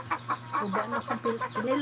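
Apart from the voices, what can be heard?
chicken clucking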